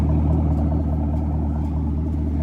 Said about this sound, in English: it sounds amazing on this Camaro SS